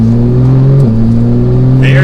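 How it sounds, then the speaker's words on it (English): A Porsche 911 GT3 with a modified exhaust accelerates under steady throttle. A strong, rising exhaust drone steps down once at a gear change, and someone talks over it. "It's just the exhaust that you hear, of course, because it's modified."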